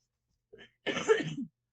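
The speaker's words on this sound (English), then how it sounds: "Excuse me if I cough during this damn video." A short breath, then a single harsh cough close to the listener, followed by silence.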